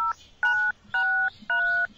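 A phone in the horror game Paranoiac sounds a string of dial tones: four clean electronic beeps in steady succession, each about a third of a second long, with short gaps between them.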